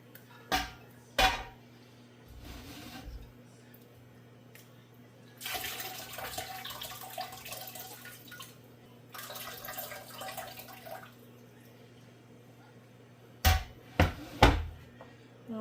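Whey splashing and trickling off mozzarella cheese curds as they are drained by hand, in intermittent bursts of pouring water with brief clinks, against a steady low hum.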